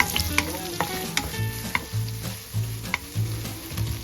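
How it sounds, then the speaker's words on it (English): Garlic and onion sautéing in a pan for canned mackerel with spinach and sotanghon, a loud sizzle under rhythmic stirring scrapes and clinks from a utensil, with no talking. "let's saute garlic and onion"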